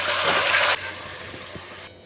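Tomato chutney is poured into a pan, starting with a loud, broad rushing hiss that suddenly softens to a lighter steady sizzle, close and without talk.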